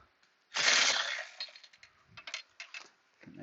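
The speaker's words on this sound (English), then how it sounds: "Can I get that bolt to come loose?" A wrench breaking loose a bolt on a 2004 Hyundai Santa Fe: a sudden harsh grinding creak, then a run of uneven clicks and metallic taps as the tool is worked, close and fairly loud.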